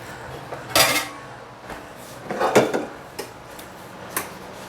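Plates and cutlery clink and scrape as vegan French bread pizza is served, with a few sharp clatters separated by quieter handling and no talk.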